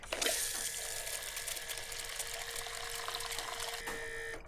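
An X5 electric fuel pump pushing fuel into a container, a steady liquid rush with a thin mechanical whine underneath, continuous and close before cutting off near the end.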